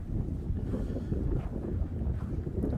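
Steady wind gusting across a frozen reservoir in winter, a continuous low rumbling roar buffeting the microphone for the whole stretch, with no voices.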